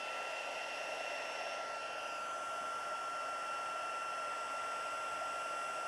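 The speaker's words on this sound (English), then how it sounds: "I've got my heat gun really high" A heat gun set on high blows steadily while drying colored pencil artwork, a continuous close airy roar with a faint whine, unbroken and with no talking.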